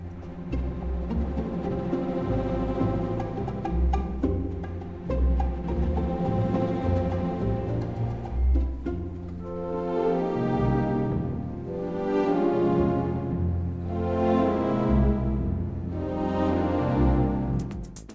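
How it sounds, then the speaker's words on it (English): AI-generated synthetic instrumental theme music with a steady low pulse and swelling tonal chords that pulse rhythmically in the second half, moderately loud with no voices. "It's just like theme music as we transition from film to film"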